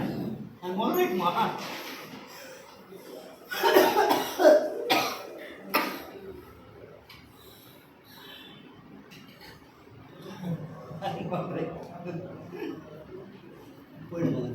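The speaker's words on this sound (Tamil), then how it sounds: "சாதாரண இருமல் தான்" Ordinary coughing from a person recovering after a few days in bed, several rough bursts in clusters, close to the listener and mixed with murmured speech and throat sounds.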